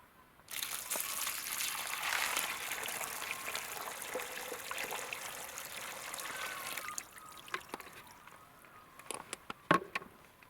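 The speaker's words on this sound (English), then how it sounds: "We'll start off with low water pressure just by pouring water into the dish with a few rocks in it" Water is poured into a dish holding a few rocks, giving a steady close splashing trickle for several seconds that then tapers into scattered drips and small splashes.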